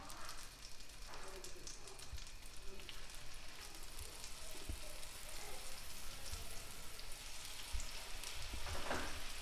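Pepper-coated steaks searing in butter in a cast iron pan give a steady, close hiss and crackle with scattered pops throughout, growing a little louder near the end.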